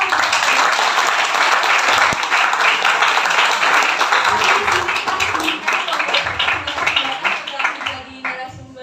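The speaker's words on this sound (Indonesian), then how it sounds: "boleh dong tepuk tangan untuk Kak Ratna" Audience applause for Dr. Ratna Sari after her talk at a Binus University talk show, loud dense clapping that fills the room and holds steady before thinning out toward the end.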